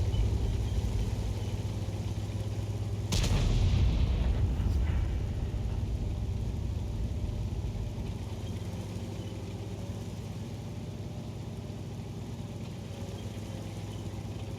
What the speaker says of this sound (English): we're going to try and get a shot on that T62A